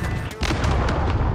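Gunshots in the Modern Warfare II video game during a Domination match, dense, loud, booming shots firing rapidly and continuously over a heavy rumbling low end.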